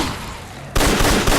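A Mossberg 590A1 shotgun firing in slamfire mode in Fallout 4: two loud, sharp blasts in quick succession over low background ambience.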